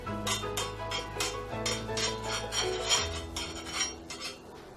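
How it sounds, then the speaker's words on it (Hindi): Oil being spread across a lightly heated tawa over a medium gas flame, a steady run of metal scraping and light clinks with a low continuous hum underneath, close and moderately loud. "तेल फैला दूंगी"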